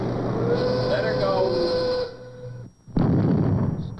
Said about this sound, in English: Somebody's blasting. It's a sound you hear all over the country today.